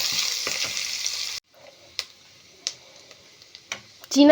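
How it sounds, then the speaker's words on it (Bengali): Chopped coconut and cashew nuts fry in hot oil, a bright close sizzle that cuts off suddenly, followed by a few sharp ticks and clinks of a utensil against the pan. "এবারে দেব নারকেল কুচি আর কাজু বাদাম কুচি দিয়ে এই তিনটে ভালো করে ভেজে নেব"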